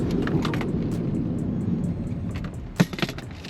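A 2025 Maruti Suzuki Baleno Zeta brakes hard from about 80 km/h, a loud rushing road and tire roar fading as the car slows, with a sharp thump near the end.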